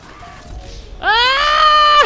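A video game character screams after catching fire, a harsh, sustained wailing cry that bursts in loudly after a second of low background noise and holds strong until the end.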